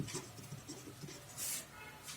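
Chalk or marker scratches on a board in short strokes and taps during a Class 9 geometry lesson, faint and close with a brief louder swipe near the end.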